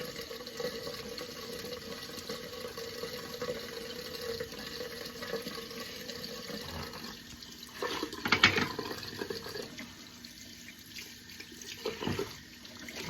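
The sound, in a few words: water running to rinse off shaving cream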